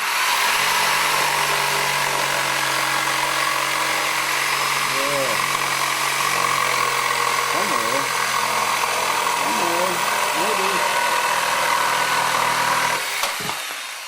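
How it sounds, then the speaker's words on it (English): A Peter Jacobsen jigsaw rips a 2-inch hemlock board with a steady, loud, buzzing drone that runs nearly the whole time, then cuts off right at the end. A voice speaks briefly under the noise partway through. "we're going to go ahead and make a rip on this 2-inch piece of hemlock."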